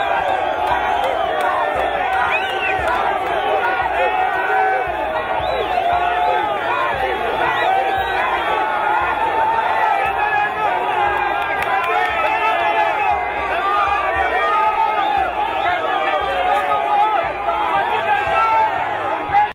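A large outdoor crowd of party activists, young and old, welcomes the Congolese president outside an airport in Katanga, a dense steady roar of chatter, shouts and cheers, with a voice speaking over it throughout.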